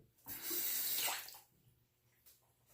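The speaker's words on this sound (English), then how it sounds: "Okay, time to rinse the razor." Water runs from a tap for about a second as a razor is rinsed under it, a close, bright splashing rush that stops abruptly, followed by faint quiet handling.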